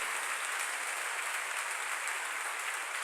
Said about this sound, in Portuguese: Dá um aplauso ao Senhor pela vida desse moço.